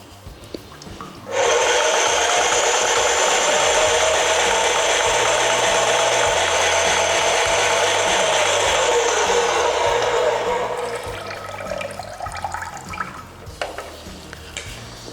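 An airless paint sprayer pumps water through its line to flush out diesel residue, a loud steady mechanical whirring spray with rapid ratcheting pulses that runs for several seconds, then tapers off.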